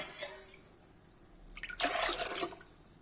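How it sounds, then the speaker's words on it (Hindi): Water is poured onto arhar dal (pigeon pea lentils) to wash them, a brief, close splashing pour lasting about a second after a few faint drips. "गाइस देखिए सब पानी डालेंगे"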